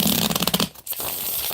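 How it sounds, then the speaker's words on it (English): A deck of cards shuffled up close, a quick run of crisp rapid riffle clicks for about half a second, then a soft settling rustle with no talk. "All right, one more shuffle. One more shuffle."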